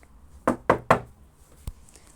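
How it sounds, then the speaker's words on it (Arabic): Three quick, firm knocks land on a door in a steady rhythm, followed after a pause by one fainter single tap, close by and without any voices. "ما افتح الباب يلا خبط."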